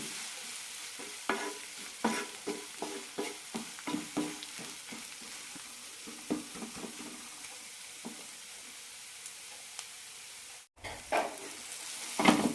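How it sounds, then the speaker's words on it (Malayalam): Masala of turmeric and Kashmiri chili powder roasting in a pan for dried bitter gourd curry, with a soft sizzle under rhythmic spatula stirring and scraping, close and fairly quiet, and a brief cut near the end. "മസാല നന്നായി മൂത്ത് കിട്ടണം"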